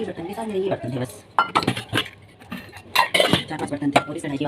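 Metal kitchen utensils and pots, including a blackened iron kadhai, clink and clatter in irregular bursts while being washed, with quieter scraping in between and a voice talking intermittently.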